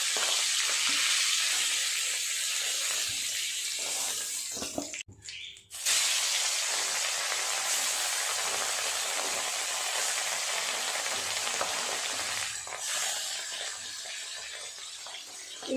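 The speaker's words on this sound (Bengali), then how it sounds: "যে মাছগুলো বাকি আছে ওই মাছগুলো একইভাবে ভেজে নেব।" Remaining bhola fish pieces frying in hot oil, a strong steady sizzle close by, briefly dipping near a third of the way through before resuming at full crackle.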